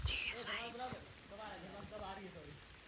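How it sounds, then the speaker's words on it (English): Rain falling during a trek near Parasnath peak in Jharkhand, a soft, faint patter heard close by, with quiet voices murmuring underneath. "It started raining and we are just like a kilometer away from the main spot."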